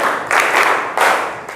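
Hands clapping in a counting pattern during a lesson, with a few sharp bursts of claps spaced about half a second apart, close and fairly loud.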